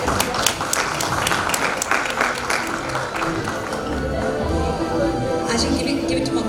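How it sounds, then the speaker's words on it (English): An audience at a multicultural Australia Day and Indian Republic Day celebration claps for a Spanish dance group, a dense patter of hands that is strongest at first and runs under a person talking. "we would like to give her the dance applause"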